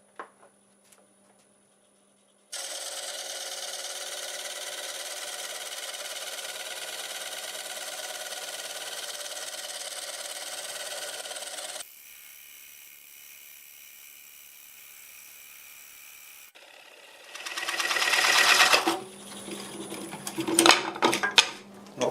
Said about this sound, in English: I'm going to go ahead and cut this starting at about 500 RPM